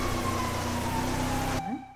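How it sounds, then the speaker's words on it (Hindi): A steady wailing police siren tone in GTA V with a lower engine drone underneath, cutting off abruptly near the end, leaving a brief rising tone. "वो सायरन का आवाज मेरे कानों में आ रहा है फिर जा रहा है"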